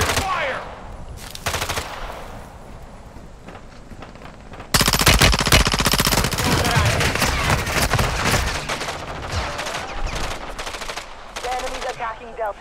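Sustained automatic gunfire in Call of Duty: Modern Warfare II, loud and dense rapid shots over battle noise, with a brief burst early on before heavy continuous firing for most of the clip.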